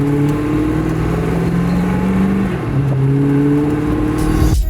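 Hennessey Venom F5 Roadster engine idling close by, a loud steady low rumble with slight wavering in pitch and a brief rise near the end.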